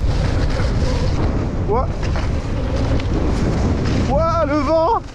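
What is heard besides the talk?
strong wind blowing at bike park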